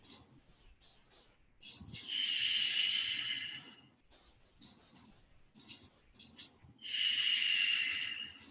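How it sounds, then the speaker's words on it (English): Ujjayi yoga breathing with the throat constricted, giving two long, hissing oceanic breaths with quieter gaps and soft movement between them, close and gentle. "Create your constriction at the back of the throat so that it starts to create that oceanic sound."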